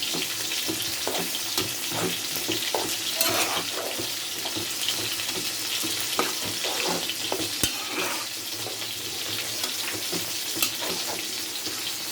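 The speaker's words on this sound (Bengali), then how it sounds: "আমি একটু নেড়ে দেবো ভালো করে।" Jute greens and lentils sizzle steadily in a frying pan, with a continuous close-up fry hiss broken by soft irregular scrapes and clinks of stirring throughout, and no talking.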